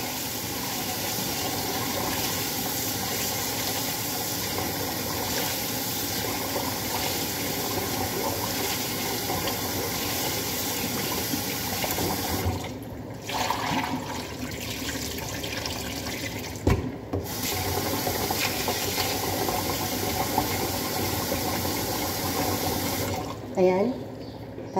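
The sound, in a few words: washing rice in water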